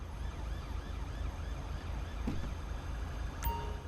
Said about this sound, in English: Sounds like something could be responding, maybe an ambulance, maybe he's called one.